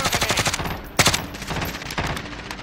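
Rapid bursts of video game gunfire, closely spaced automatic shots rattling near and loud, with a heavier single crack about a second in and further volleys after.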